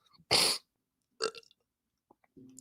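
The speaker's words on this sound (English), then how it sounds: "I got the hiccups." A man hiccups a few times in a quiet room, with short, abrupt, throaty bursts separated by pauses of silence.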